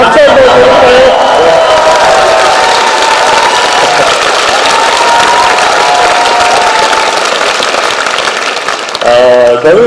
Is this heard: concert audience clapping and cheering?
yes